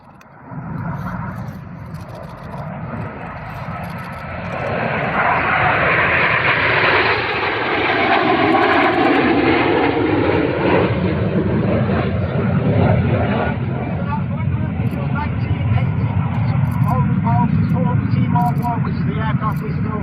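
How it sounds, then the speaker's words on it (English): Display aircraft flying over the RAF Cosford airshow, a loud, steady engine roar that builds after the first few seconds and holds, with a commentator's voice speaking over it throughout. "Which is the aircraft we still fly today."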